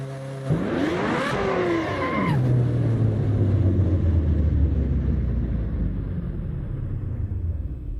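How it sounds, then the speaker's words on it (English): A red Ferrari Formula One car in the Assetto Corsa racing game revs sharply up and down once, then settles into a loud, steady rumbling drone as it moves off. "driving a red Ferrari Formula One F1 car"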